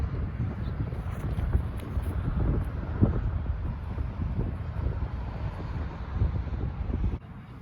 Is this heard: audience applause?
no